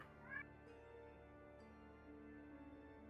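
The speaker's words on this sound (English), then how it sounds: "As a cat screams in the background" Faint and distant, a cat gives a short rising yowl at the start, then goes quiet under a steady background hum and low tones.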